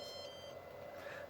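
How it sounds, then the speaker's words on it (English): A Flysky G7P radio transmitter gives a short, faint electronic beep as an auxiliary channel reaches centre, heard alone over a quiet steady hum. "it will beep when it gets to centre"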